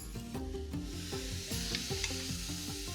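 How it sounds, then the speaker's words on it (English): Red onions and carrots sweating in a pot, with a quiet continuous sizzle and repeated rhythmic scraping stir strokes, no speech. "Just getting the red onions and the carrots softened in here."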